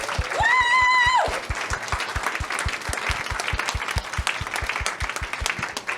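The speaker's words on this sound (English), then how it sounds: "give yourself a round of applause, because you guys work magic every day" A room full of palliative care workers at a statewide event breaks into steady applause with clear rhythmic clapping, while a brief whoop rises over it at the start and the clapping continues evenly throughout.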